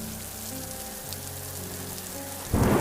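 Heavy rain pours steadily on a surface during a night storm, a dense continuous hiss, with a louder, deeper rumbling burst of thunder or downpour swelling near the end. No one speaks.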